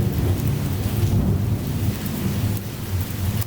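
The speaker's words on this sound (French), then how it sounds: "il y a les orages, il y a les éclairs." A thunderstorm with heavy rain pours steadily and close, with low thunder rumbling underneath throughout; there is no speech.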